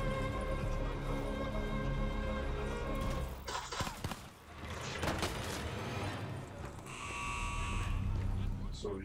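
A steady electronic alarm drones through a mission in the video game Call of Duty: Black Ops III, mixed with loud game noise, bursts of gunfire-like crackle and voices talking over it throughout.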